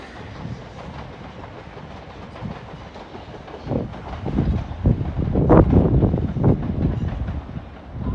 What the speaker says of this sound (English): we got more trains going in and out